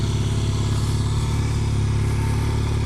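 A Triumph 1000 motorcycle engine runs with a steady, close, throbbing rumble during a group ride, holding an even level throughout with no talk over it.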